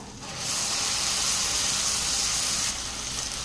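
Chopped tomatoes hit a pan of frying onions for a tamarind kuzhambu, setting off a sudden loud, steady sizzling hiss that holds and then eases slightly, with no speech.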